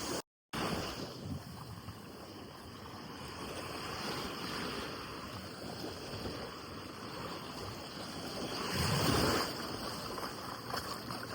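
Ocean waves at Seven Seas Beach in Puerto Rico, a continuous broad wash of surf with a swelling surge near the end, heard outdoors with light wind and no talking.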